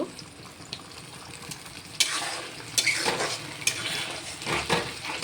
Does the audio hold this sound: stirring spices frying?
yes